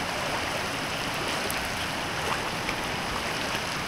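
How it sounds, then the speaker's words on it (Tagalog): Strong floodwater current at high tide during monsoon flooding in Navotas, a constant rushing wash of water that stays loud and steady the whole time with no voices. "Malakas pa yung agos."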